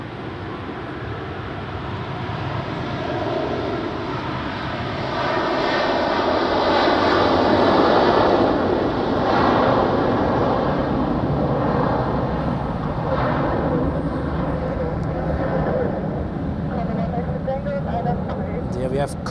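An airliner takes off from runway 28 at Zurich Airport with a broad, steady jet roar that swells toward the middle and then holds, heard from a distance, with someone talking over it.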